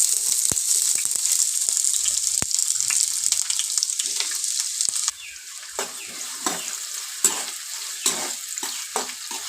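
Onions frying in hot oil in a kadai give a bright, steady sizzle, interrupted by sharp scraping stirs and clinks of a spoon; the hiss softens partway through as stirring continues.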